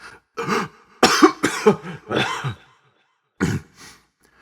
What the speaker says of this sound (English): He gasped and coughed.